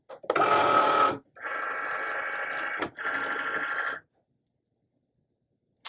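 A Cricut cutting machine loads material and cuts, producing three bursts of buzzing motor whine separated by short pauses, then falling silent.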